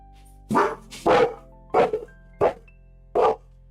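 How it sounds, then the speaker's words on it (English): A dog barks five times in separate, loud, close bursts spaced about half a second apart, with quiet room tone between the barks. "Sorry, that was my dog."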